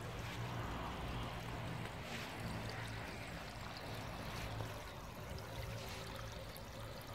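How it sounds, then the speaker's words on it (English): Water rushes steadily over a small waterfall in a garden stream, a continuous bubbling splash with no pauses and no voices. "take in the lovely sound of the water flowing over the fall here"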